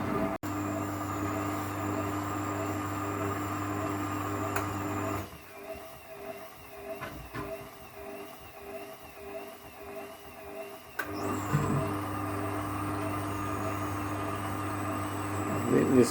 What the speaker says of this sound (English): It now just does a tumble and then it will go on to the next rinse.